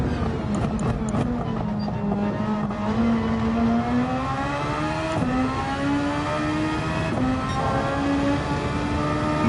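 A Super Formula race car in Gran Turismo 7 holds a loud, close, high-pitched engine note that climbs steadily through the gears, broken by a few quick upshifts.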